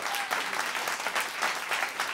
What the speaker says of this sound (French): Je vous demande un tonnerre d'applaudissements pour Pierre Desjardins.